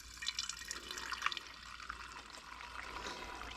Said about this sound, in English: Okay, so now I can let my thumb go, being it's lower than the tank, and my bottle's going to begin to fill.